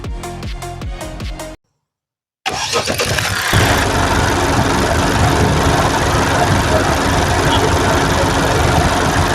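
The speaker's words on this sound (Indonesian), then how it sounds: "kita langsung mencet tombol start engine" A 2023 Honda Civic RS with the 1.5-litre turbo engine and CVT fires up from a push-button start after a brief silence. It catches with a loud burst and then settles into a steady, close idle.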